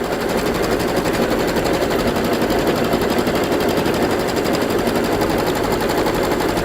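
An embroidery machine stitches out a quilting template through fabric and batting. It gives a steady, loud, rapid mechanical chatter with an even rhythm, close by, and keeps going without a break.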